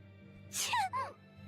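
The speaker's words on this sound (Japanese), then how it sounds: "くしゃみが伝染しとるのか。" A video game character in Tales of Berseria gives a short sneeze, a breathy burst followed by a quick voiced squeak, over a low steady background hum.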